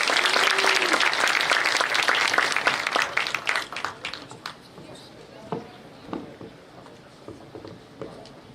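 A conference audience applauds to welcome a keynote speaker, dense close clapping that thins out and fades into a few scattered claps and footsteps.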